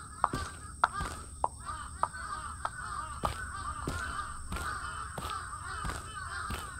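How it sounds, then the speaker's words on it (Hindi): Crows caw repeatedly in the Japanese horror video game Akai Onna, harsh calls recurring at irregular intervals over a constant eerie ambient drone, with sharp sporadic taps and thuds. "भाई कौवे क्यों है इतने?"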